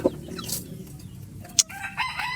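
Dark-legged backyard chickens cluck and crow close by, with short clucks and a brief rooster call amid soft farmyard background noise.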